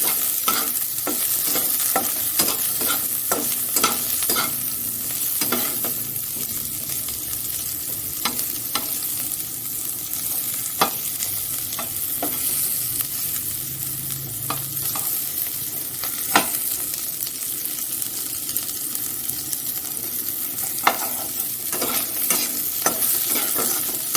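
Chopped onion fries in oil with bitter gourd in a pan, a steady hiss of sizzling broken by regular close spatula scrapes and taps over some twenty seconds.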